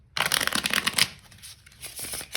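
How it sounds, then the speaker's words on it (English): A Magic: The Gathering card deck split into two piles and riffle shuffled, a close, crisp burst of rapid fluttering card clicks that then trails off into a few softer taps. "riffle shuffle it just like that"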